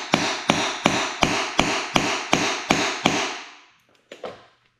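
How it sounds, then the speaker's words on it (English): A hammer strikes a hole punch through canvas while building a canvas wood stove tent in the woods: about nine loud, evenly spaced metallic blows with ringing decay, then a pause and two softer closing taps, with no talking. "So I'm taking my hole punch and just finding kind of a good center point here."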